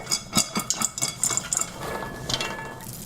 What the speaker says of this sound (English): We can actually watch the popcorn pop.